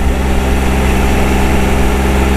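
A Triumph Trophy 1215 SE touring motorcycle running in third gear on a banked road, giving a steady, loud, low engine drone that holds an even pitch throughout with no talk.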